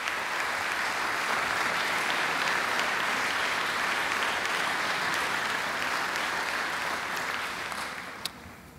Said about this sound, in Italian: Un applauso, grazie.